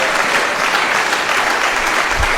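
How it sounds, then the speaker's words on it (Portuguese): A church congregation claps for a baby during a sermon, a dense, even burst of applause filling the whole moment without pause. "Uma salva de palmas para esse bebê."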